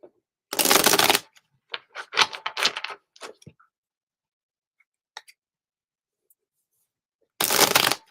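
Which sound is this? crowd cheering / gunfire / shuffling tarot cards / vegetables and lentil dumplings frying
shuffling tarot cards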